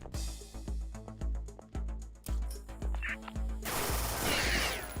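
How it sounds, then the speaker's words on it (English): Rapid bursts of shotgun and blunderbuss fire in the video game The Citadel, a dense run of sharp, loud blasts in quick rhythm that thickens into a continuous roar of gunfire near the end. "Ah, that's a lot of gunfire."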